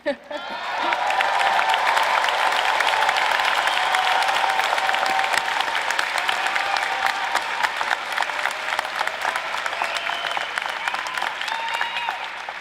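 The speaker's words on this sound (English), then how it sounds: "I see an impressive crowd has gathered to cheer you on, and that is your cue to cheer them on." Graduating class at a university commencement ceremony in Pauley Pavilion applauds and cheers toward their families, a sustained loud wash of clapping with scattered whoops filling a large indoor arena.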